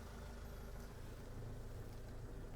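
A 2011 Renault Trafic 2.0 diesel van engine idles with a steady low rumble, continuous, close and even, with no voices.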